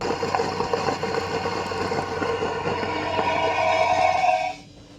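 A sleeper train in Britain rumbles and hums steadily as it starts moving, with a rhythmic mechanical clatter, then the sound cuts off abruptly near the end; nobody speaks.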